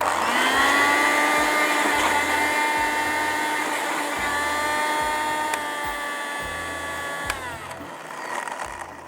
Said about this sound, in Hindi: तो हम थोड़ा थोड़ा उसको रोक रोक के चलाते हैं ताकि थोड़ा सा मसाला ही पिस जाए।